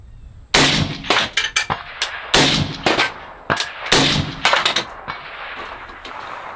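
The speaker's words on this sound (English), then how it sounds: "Three shots fired, no problem. Locked open on the last round. That was Elander." An Elander 6ARC rifle fires at a large steel plate 300 yards out on an outdoor range, with sharp, loud cracks followed by rolling echoes and reverberation between the shots.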